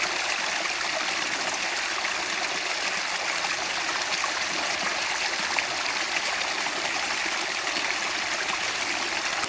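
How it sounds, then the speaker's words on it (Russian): A small forest waterfall in a stream near Murmansk rushes steadily and close by, a dense, unbroken wash of splashing water with no voices. "Какой мини-водопадик."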